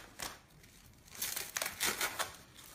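A sanitary napkin being torn open, producing quiet, close crinkling and ripping of the wrapper and pad material in several short bursts, with no voices.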